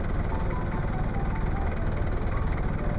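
A Chevrolet LUV pickup engine idles while warming up, a steady low rumble that holds even and close for the whole stretch with no talk over it.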